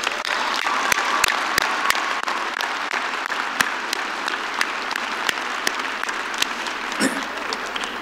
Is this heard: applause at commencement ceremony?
yes